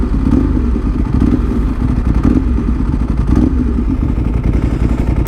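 A Ducati 1098 motorcycle with a freshly reflashed ECU runs close by, its engine throbbing loud and steady with a few rhythmic pulses of revving and no talk over it.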